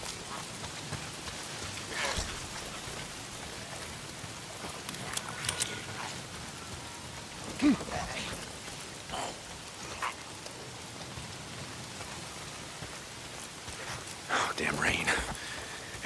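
Steady rain falls in the video game Days Gone, a soft continuous hiss broken by occasional louder patters and thumps, with a voice heard at times over it.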